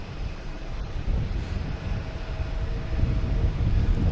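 An Alaska Airlines airliner taxis slowly at Boston Logan Airport, a steady low engine rumble with wind noise across the microphone, continuous and moderately distant.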